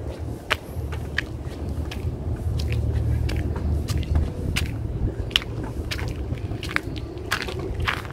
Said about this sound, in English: I'm walking on my sandals here.